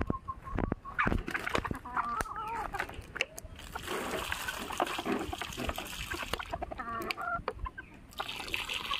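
Chickens clucking close by during feeding, with splashing and pattering of feed or water among them and someone speaking over the scene.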